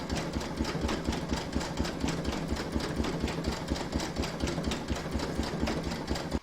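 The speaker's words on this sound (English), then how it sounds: "We're now going to stitch round number 7, which is the bottom half of the moon" An embroidery machine stitches the bottom half of a moon design on a runner, producing a loud, continuous fast rhythmic clatter with a low mechanical hum throughout.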